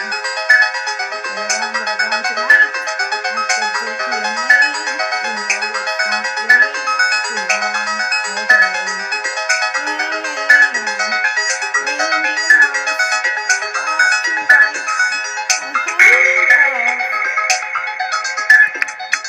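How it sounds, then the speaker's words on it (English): Bright, synthetic electronic tones ripple in a fast repeating arpeggio with periodic chiming accents, steady and continuous, sounding like a slot machine. "this is the craziest binaural beat I've ever heard in my life"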